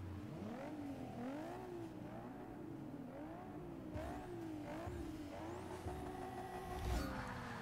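Race car engines rev and roar during a Forza Motorsport 6 race with Porsche cars and SUVs, a continuous droning engine note rising and falling with gear shifts, steady and moderately loud with no talk.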